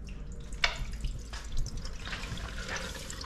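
Water draining through paper towel from a tray of micro-green seeds held upside down: soft continuous trickling with a few light splashy drips, quiet and close, no speech.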